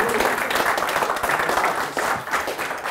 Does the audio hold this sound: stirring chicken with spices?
no